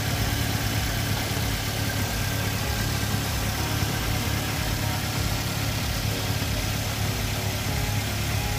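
A 2009 Toyota Xenia with a VVT-i OHC engine idles steadily, a continuous low, even rumble with a faint mechanical hum, close and loud, with no voices.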